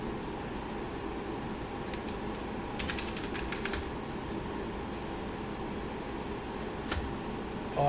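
Someone types on a computer keyboard while working in a Linux terminal. There are short bursts of quick key clicks and a lone tap later, over a steady low fan hum.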